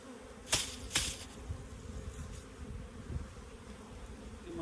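Honey bees drone steadily around an open hive during brood transfer, a continuous low buzz broken by two sharp clicks early on.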